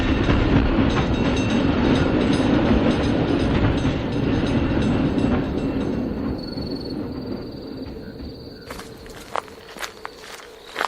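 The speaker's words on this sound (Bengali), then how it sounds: "একটা ট্রামে উঠে রওনা দিলাম" A tram ride rumbles steadily up close with rail clatter and rhythmic clicking, fading slightly toward the end as sharp knocks and clicks take over.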